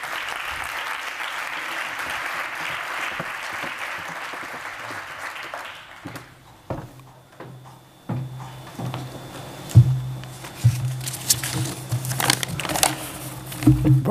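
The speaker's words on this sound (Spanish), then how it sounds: "Recibámoslo a escenario con un fuertísimo aplauso." Applause from a crowd fills the first six seconds, then fades into scattered claps and stage bustle with a low hum.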